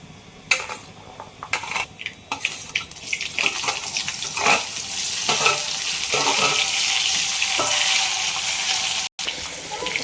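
Cumin seeds sizzling in hot oil in a home kitchen, a bright crackling hiss that swells and holds steady, with a few clinks and scrapes early on and a brief cut near the end.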